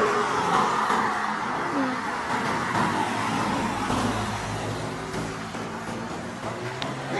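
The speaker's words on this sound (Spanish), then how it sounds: "Ahí viene otro carro." A car on a street passes by at moderate distance with a broad rushing roar that swells and fades slowly over several seconds, set against steady outdoor background noise.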